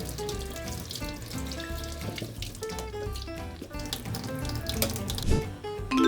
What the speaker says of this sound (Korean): 그래서 저는 물에 한번 가볍게 씻어서 사용합니다.